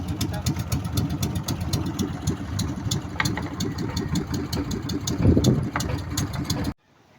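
A small Honda boat engine with a 24 racing carburetor idles steadily with a rough, chugging rhythm, fairly close, before cutting off abruptly near the end.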